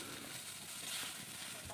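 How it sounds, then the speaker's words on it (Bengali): Fish frying in oil in a pan for a sour fish curry with okra, a faint, steady hiss of sizzling with no other sounds. "মাছটা ভেজে নিচ্ছি"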